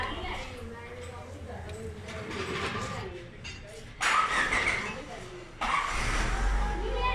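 A Honda Civic engine being started again after it had been switched off, a loud cranking that catches and settles into a steady idle under ongoing background noise.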